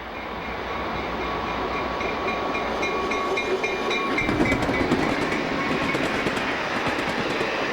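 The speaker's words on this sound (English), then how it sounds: "Following soon after the commuter is a B&O Extra," The Cherry Blossom Special, a 14-car B&O extra passenger train, rolls past with a loud, steady roar that builds midway, carrying rhythmic clickety-clack from the wheels on the rails.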